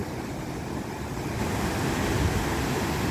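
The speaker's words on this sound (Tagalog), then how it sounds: "malakas ang alon no" Strong ocean waves surge and crash continuously on the shore at Barangay Tanpail, Tigbauan, Iloilo, a broad steady roar mixed with gusty wind noise that grows slightly louder partway through.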